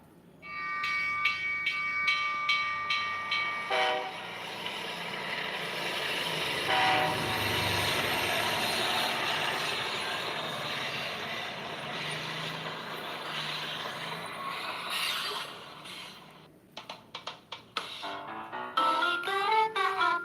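A train rumbles past in a long, loud pass, its horn sounding in sustained blasts near the start and again near the end, with a grinding, rattling roar of cars in between and a brief hiss like air brakes.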